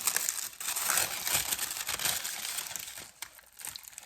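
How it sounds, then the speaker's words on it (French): Plastic wrapping crinkles and crumples continuously as it is pulled off a package, close and fairly quiet, with short bursts of crackling and a brief lull near the end. "Il y a du plastique par-dessus. Je vais l'enlever, bien sûr."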